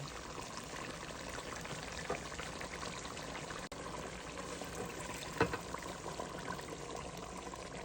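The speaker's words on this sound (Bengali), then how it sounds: "ডাল দিয়ে দেবো এর মধ্যে" Mung dal poured into a pot holding a rohu fish head, a steady broadband trickling pour running throughout at moderate level with a brief knock midway.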